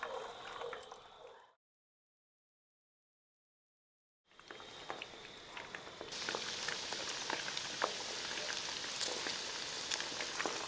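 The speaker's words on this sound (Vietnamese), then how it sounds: "mình cho sườn vào chiên lần thứ hai với lửa trên trung bình một chút" Steady crackling sizzle of pork ribs deep frying in hot oil for a second time over medium-high heat, briefly cut to silence, then returning louder and denser with sharp pops.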